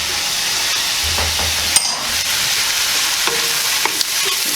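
Garlic added to a hot pan with pork sausage for a gnocchi bake, giving a steady close frying sizzle and hiss with a few stirring scrapes and clicks throughout.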